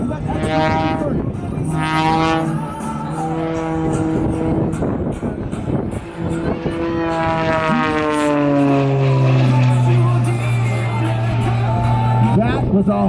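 A propeller aerobatic plane performs at the Wings Over Cowtown air show in Texas, its engine droning and rising in pitch as it pulls into a vertical climb, loud and sustained, while a commentator talks over it.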